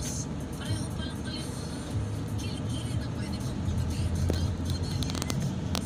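Road traffic in Muson, Bulacan, heard from inside a moving car: a steady low engine and road rumble with passing vehicles and a brief louder engine surge, continuous throughout.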